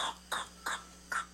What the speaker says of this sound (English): when the baby's sick and coughing like this